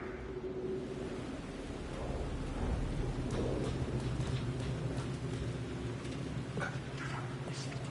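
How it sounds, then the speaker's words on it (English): Steady rain hisses throughout with a low rumble of distant thunder rolling underneath, fairly quiet and continuous. "The rain never stopped falling."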